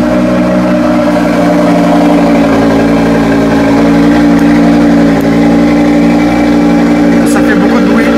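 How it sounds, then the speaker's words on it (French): An Audi RS3 cold starting with its exhaust valves open, a loud, steady, droning idle that fills the whole clip with a deep rumble and no pauses. "Démarrage à froid avec les clapets ouverts."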